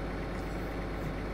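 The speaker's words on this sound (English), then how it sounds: "So let's go find our other tractor" Tractor engine idling in Farming Simulator 2015, a steady low rumble holding at constant volume with no other sounds.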